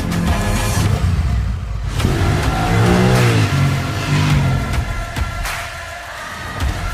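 A 2021 Honda Rebel 1100 cruiser motorcycle engine revs hard and climbs in pitch, with quick shifts between bursts, loud and close throughout.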